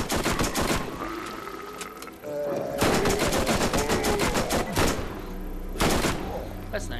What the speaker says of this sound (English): You can shoot the barrel and they explode.